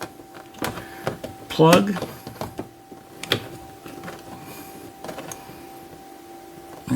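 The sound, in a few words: cordless screwdriver driving self-tapping screws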